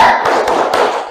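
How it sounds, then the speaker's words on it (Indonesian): Classroom pupils doing a rhythmic 'tepuk semangat' spirit clap, a short burst of several close, sharp claps in quick succession. "supaya tetap semangat, coba kita tepuk semangat dulu."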